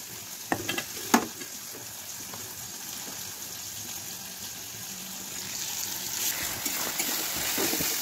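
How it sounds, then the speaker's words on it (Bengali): Fish fat frying in a pan with occasional stirring, a steady broadband sizzle with a few sharp scrapes and clinks early on, fairly close and continuous, with no talking. "তো সেই কারণে ভেজে রেখে দেবো, আর মাছের তেলটা ভেজে ফেলবো।"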